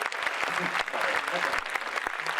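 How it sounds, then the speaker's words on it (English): An audience claps at a testimonial-sharing talk, bursts of hand claps that are fairly close and steady, with a voice speaking over them. "Give me a round of applause."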